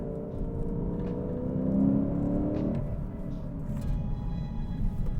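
The V8 of a 2024 Lexus IS 500 F Sport rear-wheel-drive sedan is short shifted, giving a steady moderate engine drone that climbs slightly, then drops with a gear change and settles into a lower hum.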